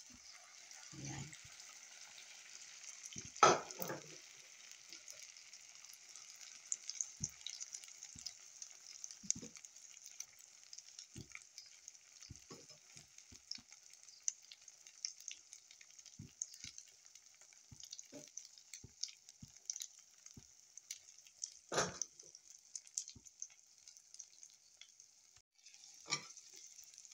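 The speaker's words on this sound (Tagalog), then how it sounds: "Ibuhos na natin yung na-mix na eggs, tomatoes, onions, coriander leaves, saka spring onions" An egg, tomato, onion, coriander and spring onion mixture fries in a pan with zucchini, giving a steady soft sizzle throughout, broken by occasional louder clinks and stirring scrapes.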